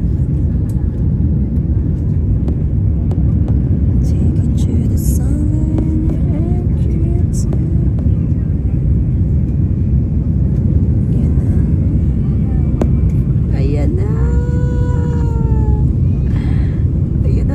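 Loud, steady roar of a passenger airplane cabin during landing, a broad rumble that continues throughout, with faint rising whine tones near the end and no clear talk.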